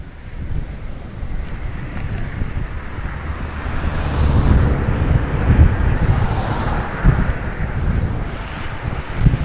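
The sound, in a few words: strong wind blowing on a beach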